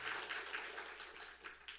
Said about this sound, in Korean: 우리 성령 하나님께 감사와 찬양의 마음으로 우리 한번 감사합니다 박수 한번 합시다